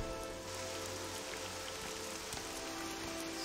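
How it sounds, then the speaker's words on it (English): Steady rain falls across the world of the video game Morrowind, a continuous even hiss of droplets with soft low ambience underneath, no voices over it. "It's raining."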